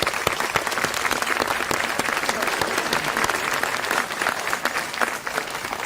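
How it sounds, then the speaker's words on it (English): A large crowd at a 2018 Sanford School commencement in an outdoor amphitheater applauds in a dense, continuous wash of clapping for about six seconds, with no talk over it. "That deserves a round of applause."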